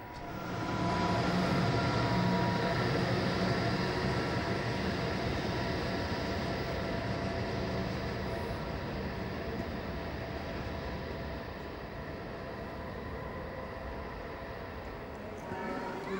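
An Intercity train, hauled by a class 101 or 120 electric locomotive, runs through Heidelberg station with a loud, sustained rumble and humming drone that holds steady for many seconds before easing slightly toward the end.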